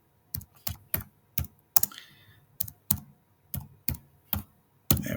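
Typing on a computer keyboard, about thirteen sharp, close keystrokes in an uneven rhythm with short pauses between bursts, in an otherwise quiet room.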